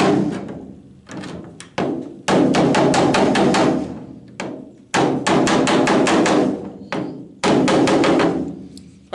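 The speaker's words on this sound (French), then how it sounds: "muni d'un tas, un marteau, je mets le tas en dessous et je vais aplanir légèrement mes rivets" A hammer flattens rivets against a dolly on the bodywork of a Citroën Traction 11B, in loud, close bursts of rapid metallic blows separated by short pauses.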